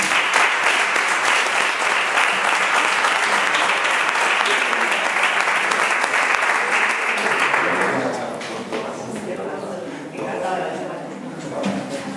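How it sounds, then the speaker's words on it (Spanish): An audience at a literary event in Rivas, Madrid, applauds loudly and steadily for about eight seconds, then the clapping thins and fades as a voice begins speaking over it. "Por favor, un fuerte aplauso."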